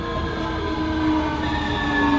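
Automated driverless Copenhagen metro train running, a steady rolling rumble with faint tonal whine, continuous and fairly close throughout.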